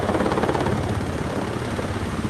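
A rescue helicopter flies nearby during a mountain rescue operation, its rotor thudding in a fast, steady rhythm under a loud, broad engine roar that fills the whole short stretch.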